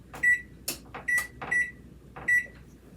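Oven timer on a kitchen oven beeping as it is set for sourdough bread baking: four short, sharp electronic beeps at an uneven pace, interleaved with clicks and clatter of button presses, close and fairly loud.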